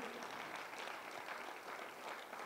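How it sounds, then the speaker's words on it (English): A church audience claps together in a dense, even patter during a worship service; the applause is faint and continuous, heard alone without talk. "Clap for God the Father"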